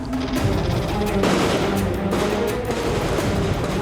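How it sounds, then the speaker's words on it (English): Heavy small arms gunfire in a firefight, a dense continuous crackle of overlapping shots and bursts, loud and sustained with a sharper surge partway through. "Almost immediately after that, heavy small arms fire started."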